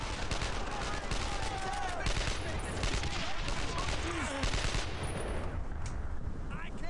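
Sustained heavy gunfire in the World War II shooter Brothers in Arms: Earned in Blood, with dense overlapping rifle and machine-gun bursts running continuously and loudly, and shouted game dialogue mixed in.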